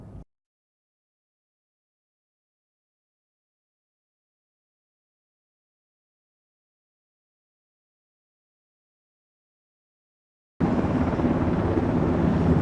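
Black Hawk helicopter in a fast-rope assault drill during a joint National Guard exercise in Bahrain: near-silence gives way abruptly to a loud, steady rotor and engine roar filling the final two seconds.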